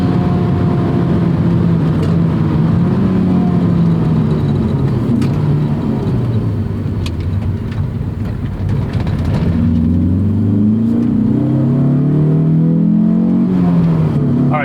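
A 2006 Honda S2000 (AP2) engine revs hard, its pitch sweeping up through the rev range into VTEC and then climbing again after a shift, loud and close from inside the car.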